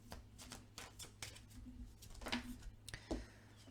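Tarot cards being shuffled and drawn by hand, a run of soft papery riffles and light flicks with a few sharper snaps near the end, close and fairly quiet against a low steady hum.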